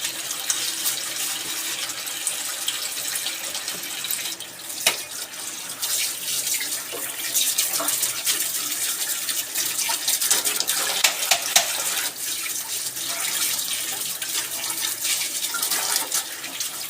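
A kitchen tap runs steadily while dishes are washed, a continuous close hiss of splashing water with occasional small knocks of vessels.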